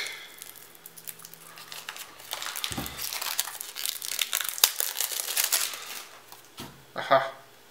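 The plastic wrapper on a Future Card Buddyfight trial deck crinkles and rustles steadily for several seconds, close and fairly loud, with a short burst of louder crackling near the end.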